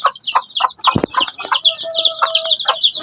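Two-week-old chicks peep and cheep nonstop, high chirps in rapid succession close by, with a brief low thump partway through and no talking.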